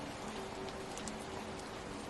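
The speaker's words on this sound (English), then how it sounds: "The soothing sound of rain falls throughout the forest." Rain falls steadily beneath a rainforest canopy as a dense, even hiss with faint scattered drips, soft and unbroken throughout.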